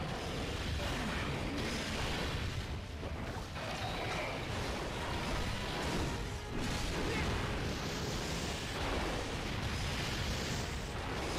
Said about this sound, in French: Il y a des explosions partout.